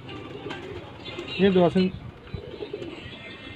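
Home-bred pigeons on a rooftop give one clear, close coo in the middle, over faint background noise, with someone speaking briefly.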